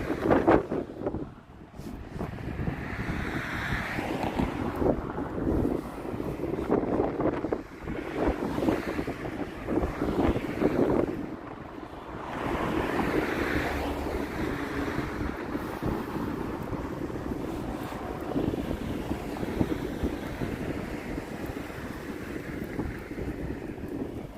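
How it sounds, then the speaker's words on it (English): Strong wind buffets the microphone on a bridge in Japan, a loud, continuous roaring rumble with gusty surges and short lulls, no voice heard. "It's gonna get really windy here"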